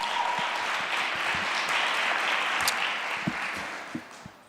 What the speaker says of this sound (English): Another round of applause for Ankia.